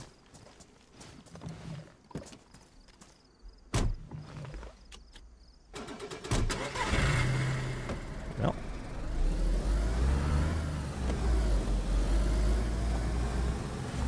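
A car engine in the video game DayZ cranks and catches partway through, rising into a loud, rough running roar after a few sharp clicks and thuds in an otherwise quiet outdoor scene.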